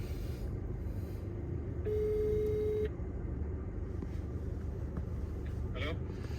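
A single steady electronic ringing tone, about a second long, over the low rumble of a car interior, then engine noise continues.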